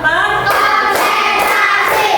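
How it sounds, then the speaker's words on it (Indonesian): Children clap together in a rhythmic tepuk chant in a classroom, dense and loud, the clapping running steadily with little break for about two seconds. "Tepuk 1, tepuk 2, tepuk 3, tepuk 4"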